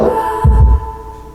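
A heartbeat effect from a Nissan car commercial: two deep, booming low thumps in quick succession over a soft steady hum, then fading.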